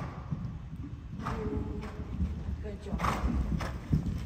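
Young horse's hooves clip-clop on the ground during a riding clinic, a steady walking rhythm at moderate distance, with people speaking briefly over the hoofbeats.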